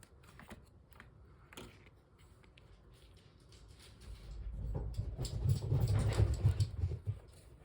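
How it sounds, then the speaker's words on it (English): Dogs racing around indoors with the zoomies, their paws building into a low rumbling patter like distant thunder that swells toward the end, with no talking. "you hear something that sounds like thunder, my dogs have the zoomies."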